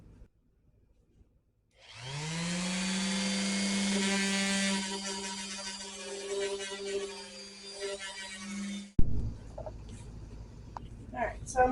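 A power sander whines loudly and steadily on wood for several seconds with a rough grinding texture, then stops, followed by scattered handling clatter.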